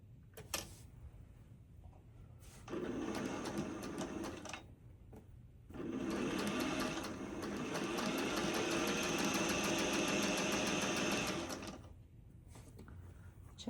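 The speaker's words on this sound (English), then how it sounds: "We're going to sew that last seam together." A sewing machine stitches a quilt seam in two bursts, a short run and then a longer steady whirring with a rapid needle clatter, separated by quiet pauses, close and fairly loud.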